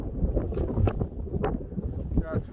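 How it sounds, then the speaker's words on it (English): Strong gusting wind buffets the microphone on a walk through a snowstorm, a rough continuous roar with uneven surges, and a voice speaks briefly beneath it. "Yeah, it's really windy."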